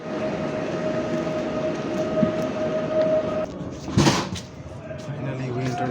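A train pulls into a station in Poland with a steady rumbling drone and a sustained tonal whine, then a sharp clunk near the end, heard close with people talking nearby.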